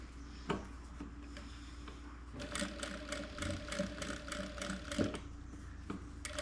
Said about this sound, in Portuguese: vou fazer bem devagar para que a gente tenha esse pesponto bem finalizado